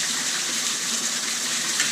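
Rainwater gushing down a mountain stream that is normally dry, a continuous close rushing of water with no voices over it.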